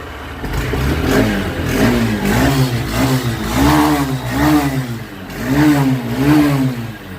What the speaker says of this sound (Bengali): তো গাড়িটা স্টার্ট করে দেখে দিচ্ছি একবার চলো